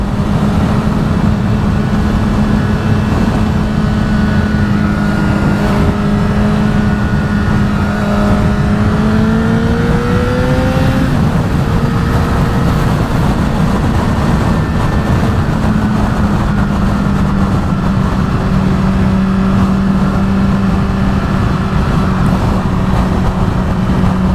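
A motorbike rides steadily on freshly fitted tyres being scrubbed in, its engine droning loud and close with wind rush, and the pitch dips and climbs as the rider shifts and accelerates.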